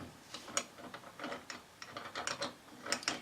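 Metal nut, left-hand threaded, being turned onto a threaded shaft that carries a propeller, giving a string of quiet, irregular mechanical clicks and ratcheting ticks, close by with no talk.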